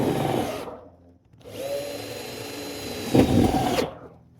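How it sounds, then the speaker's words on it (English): A power drill drives screws into metal roofing on a barn roof in two long bursts separated by a short pause, the second ending in a harsher grinding spike as the screw seats, close and loud, with no talking. "we're putting 2 screws, one on the outside edge, one in the middle"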